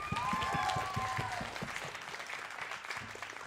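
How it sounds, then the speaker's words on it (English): Audience clapping at a student union election night event, a loud burst at first that thins out over a few seconds, with background chatter and a faint tonal sound early on. "give her another round of applause"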